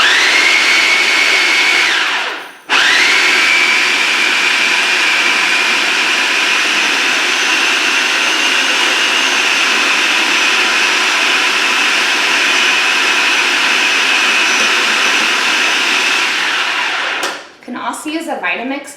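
A food processor blends strawberries into a paleo cheesecake mix with a loud, steady high-pitched whir that runs nearly continuously, broken by one brief pause early on, then stops near the end with some clatter.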